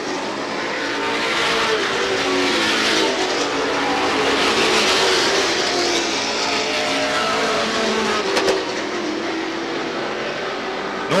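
Race cars roar around the Star Speedway track in a dense, continuous wall of engine noise that stays loud and close throughout, with no voices on top.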